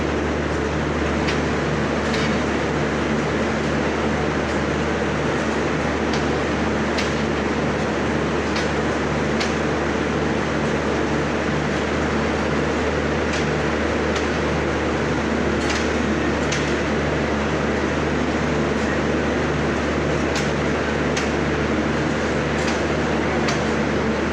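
A steady, loud rumble of a long intercity train in motion, with continuous low mechanical drone and occasional sharp clicks throughout.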